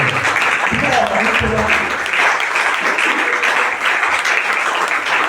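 A church congregation bursts into loud, sustained applause and cheering during a sermon, a dense wash of clapping filling the space with voices mixed in.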